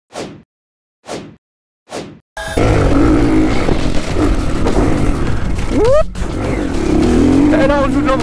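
A dirt bike's engine snarls into a loud, continuous revving roar with quick rising pitch sweeps as the rider works the clutch, preceded by three short, separate vocal grunts.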